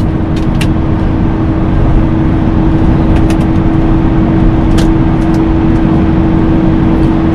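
Engine drone inside the cabin of a car cruising in fifth gear at 100 km/h on a concrete toll road, a loud steady hum with constant road roar and occasional faint ticks, no talking.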